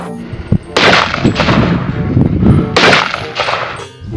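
Cowboy pistol gunshots in a shooting video game ring out loud and close, a quick single shot followed by several blasts in bursts, each with a metallic ringing tail; no speech.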